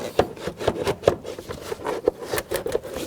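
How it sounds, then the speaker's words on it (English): Plastic airbox of a 2010–2016 Buick LaCrosse being slid up and out of the engine bay, giving a string of close, sharp rubbing scrapes and knocks in an uneven rhythm, with no talking. "you can just grab the airbox and slide it up"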